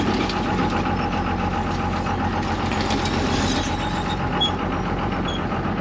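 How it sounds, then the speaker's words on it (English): An off-road vehicle's transfer case and drivetrain grind and rumble steadily at close range, a continuous mechanical drone with engine noise and no talking. "the transfer case working"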